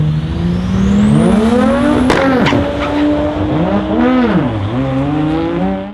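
A powerful 1,000-horsepower drag race car engine roars loudly and continuously as it accelerates, its pitch climbing and dropping with gear changes and a brief sharp burst partway through.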